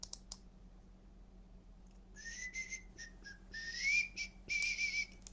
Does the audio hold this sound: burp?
no